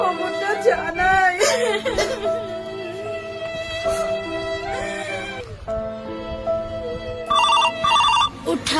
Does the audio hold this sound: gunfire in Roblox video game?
no